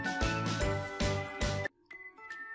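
A bright notification bell jingle rings in quick repeated bursts, then goes quiet before a softer, fainter tinkle.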